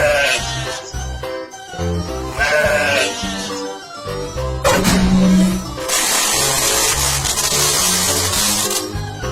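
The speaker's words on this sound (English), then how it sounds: "Sheep." Cartoon sheep bleating in a children's animated train show, a loud wavering bleat over bright music with a burst of noisy effects later.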